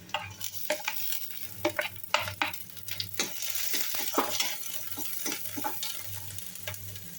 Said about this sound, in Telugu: ఆనియన్ వేగిన తర్వాత సన్నగా కట్ చేసుకున్న పచ్చిమిర్చి ముక్కలు